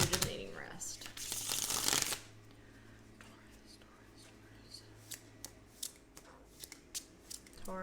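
A deck of tarot cards is shuffled by hand in a quick, loud, riffling burst lasting about two seconds. Softer card taps and handling sounds follow, with someone speaking quietly.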